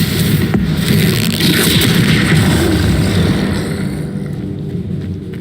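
A Stupefy spell cast in the Hogwarts Legacy video game lands as a loud, booming blast inside continuous dense rumbling combat noise, which fades slightly toward the end.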